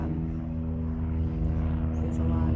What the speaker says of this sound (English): there's an airplane going over again